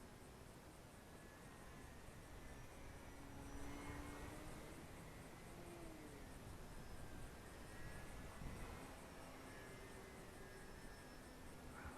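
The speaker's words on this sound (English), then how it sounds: "That is a maneuverable plane" Fun Cub electric RC model airplane with 1100mm wingspan flies overhead, a faint, steady whirring drone with slight swells as it passes, heard from a distance over outdoor background noise.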